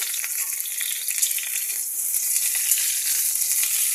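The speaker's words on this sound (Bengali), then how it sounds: "4-10 মতো সর্ষের তেল নিয়ে আমি ফার্স্টে ফুলকপিগুলো ফ্রাই করে নিচ্ছি।" Cauliflower pieces fry in hot mustard oil, giving a loud, continuous bright sizzle that holds steady with no voices.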